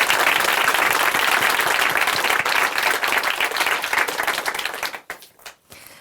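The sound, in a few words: audience applause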